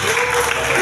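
A church congregation at a revival service claps together in a short, dense burst of applause.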